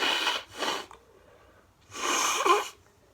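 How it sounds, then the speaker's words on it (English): A man blows his nose forcefully near the microphone, two short honking bursts followed after a pause by a longer, wetter blow, with no talking. "yeah, you're gonna see me blow my nose."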